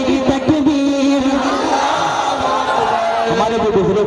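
A crowd at a hamd and naat gathering answers the Naara-e-Takbeer chant with loud, massed voices over a strong, sustained lead voice, the shout lasting for several seconds.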